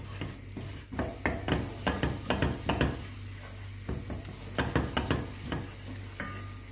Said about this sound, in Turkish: Tarhanamı da tencerenin içindeki malzemelerle bir dakika boyunca kavuruyorum.